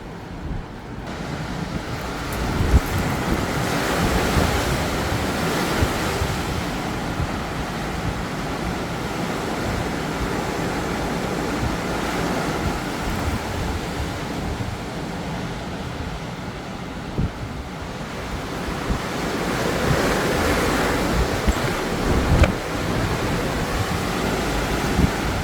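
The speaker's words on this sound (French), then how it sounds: "Quand on voit ce genre de rafale devant" Strong, continuous wind roar from storm Nils in Bordeaux, surging in gusts over about twenty-five seconds with broad rushing noise and buffeting, loud and steady with no talking.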